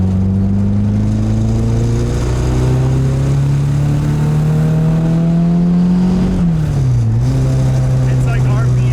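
A turbocharged K24 engine in a Nissan Cefiro pulls under partial throttle, a loud droning tone climbing steadily for several seconds before dipping briefly and settling, close up, with people talking over it.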